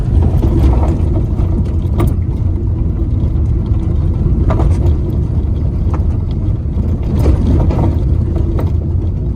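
A motorcycle rides over a broken, paved road, its rear suspension under test. There is a steady low engine rumble and wind noise, with scattered knocks and jolts from the rough surface, and no talking.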